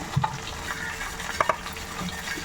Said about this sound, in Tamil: எண்ணெயில் போட்டு அப்படியே நல்லா ஃப்ரை பண்ணுறோம்